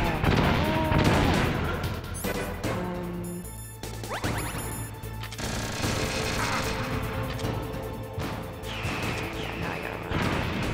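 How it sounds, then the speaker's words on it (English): Enemy gunfire in the stealth-action video game Metal Gear Solid, a dense fusillade of shots and crashes over a steady game soundtrack, loud and continuous throughout. "and then now he's shooting"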